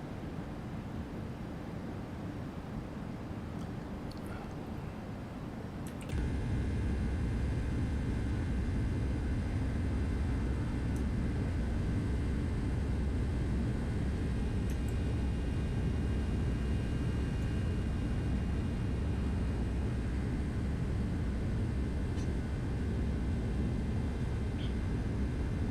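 Simulated Boeing 757-200 airliner in X-Plane 12, a continuous broad engine roar and rumble that steps up sharply in loudness after a few seconds and then holds steady, with faint tonal whines layered over it.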